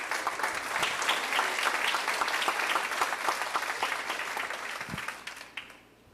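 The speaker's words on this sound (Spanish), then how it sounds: "Denle un aplauso a nuestro Dios." A church congregation applauds during a Sunday sermon: dense, steady clapping from many hands that holds evenly for several seconds, then thins and fades away near the end.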